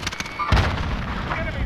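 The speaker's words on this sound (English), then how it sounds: "Throwing grenade!" A grenade blast in a first-person shooter video game booms once, sharp and heavy, amid scattered gunfire and game noise.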